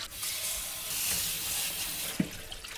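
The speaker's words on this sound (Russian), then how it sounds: "Отправляюсь к раковине и отправляю капусту в сито. Ну и заливаю ее холодной водой." Cold tap water runs steadily from a kitchen faucet over blanched savoy cabbage sitting in a sieve in the sink, a close, continuous splashing hiss with one brief knock partway through.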